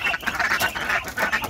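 Ducks, Muscovy ducks and chickens eat poultry feed mixed with trichantera, with a dense, continuous chorus of close quacking and busy feeding noise.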